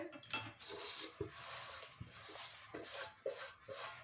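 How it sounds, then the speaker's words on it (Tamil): Grated coconut stirred in a pan on low heat for coconut cake, soft rubbing scrapes and occasional light clinks of a spoon against the pan in uneven strokes, quiet and close. "கை விடாமல் இதை கிண்டிக்கிட்டே இருக்கணும்"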